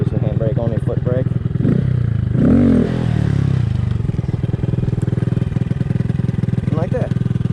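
A motorcycle engine runs steadily close by while the rider brings the front wheel up for a wheelie using only the foot brake, with a brief revving swell partway through and someone talking over it.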